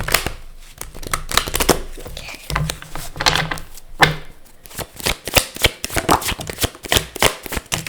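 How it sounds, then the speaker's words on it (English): Tarot cards being shuffled by hand, a rapid run of crisp riffling snaps and flutters, loud and close, repeating in bursts across the whole stretch. "That was not a very good shuffle. Let me just do that again."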